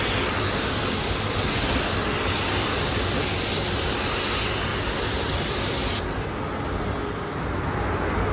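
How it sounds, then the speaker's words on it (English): A steady, loud hiss of aerosol spray sealing a metal shop cart runs continuously, easing off slightly near the end. "I'm just gonna go ahead and spray this too and make it look a little better"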